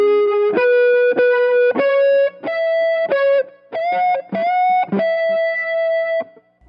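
Distorted electric guitar plays a solo riff, a run of sharply picked notes with bends and sustained tones climbing step by step, played alone and up close.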